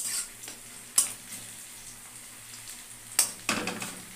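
Onions fry in a pan on a home kitchen stove, a soft steady sizzle broken by a few sharp scrapes and knocks of stirring, heard close and faint with no talk.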